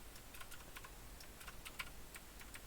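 Computer keyboard typing while coding, a quiet, irregular run of light clicky keystrokes with small bursts and pauses, heard alone without talk.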